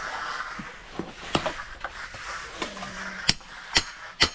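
A hammer is used to pull something out of concrete formwork in a backyard. Several sharp, isolated metallic knocks land at irregular intervals, with quieter scraping and handling between them.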